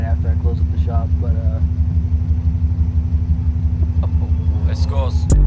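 A 1997 Subaru Outback with a newly fitted exhaust idles close by, a steady low pulsing rumble throughout, while a person talks over it.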